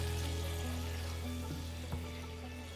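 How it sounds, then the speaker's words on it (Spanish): Chicken pieces fry in hot oil for a mixed chicken and seafood paella, giving a steady close sizzle with a faint bubbling crackle throughout and one small knock near the end, no voices. "En ese aceite echamos en primer lugar el pollo"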